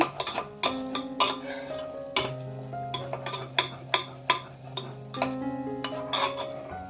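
Goda masala, turmeric and other spices are sautéed in a metal pan, a spoon striking and scraping the vessel in repeated close, ringing clinks, some leaving a lingering metallic resonance.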